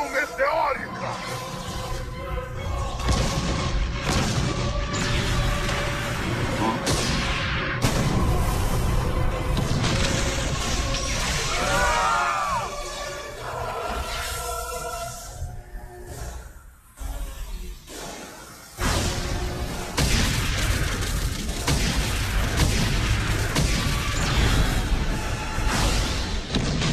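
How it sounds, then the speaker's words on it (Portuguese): An anime fight attack, Saitama versus Boros in a Portuguese dub, erupts in a meteoric explosion. Booming crashes, whooshes and thuds surge and drop out briefly, with dramatic voices speaking over the effects. "Explosão meteórica!"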